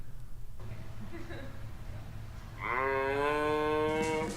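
A giraffe gives a long, low, moo-like call that swells and holds near the end after a quiet stretch of room noise.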